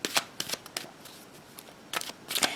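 Tarot cards being shuffled by hand in quick riffling bursts, several crisp papery flurries separated by brief pauses, close and fairly loud with no talk.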